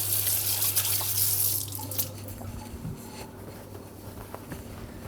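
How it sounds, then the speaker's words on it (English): Tap water running into a sink during a quick hand wash, a steady hiss of flowing water that cuts to softer splashes and drips, close and alone. "Quickly wash my hands."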